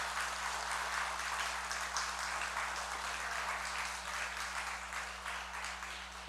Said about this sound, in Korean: 우리 축복의 박수 또 감사의 박수 하겠습니다